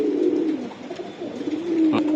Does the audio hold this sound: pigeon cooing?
yes